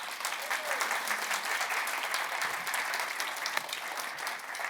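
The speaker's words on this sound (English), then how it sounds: "So a big round of applause for Andrea." An audience at a real estate investing talk applauds warmly for a woman named Andrea, with dense, even clapping that holds steady throughout and is heard fairly close.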